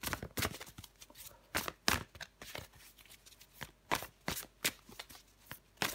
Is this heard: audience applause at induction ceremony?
no